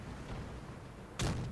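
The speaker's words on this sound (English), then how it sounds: "Quick kill there, and you could see the very big explosion." A World of Tanks tank gun fires: a sudden sharp boom that lands late against a low, steady background rumble and rings out briefly.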